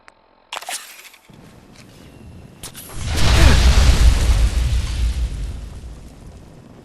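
A whoosh and roar of flames in Fallout 4 as the coffee-dispensing robot at Slocum's Joe sets the player on fire, a sudden burst building into a loud, sustained fiery rumble that slowly fades.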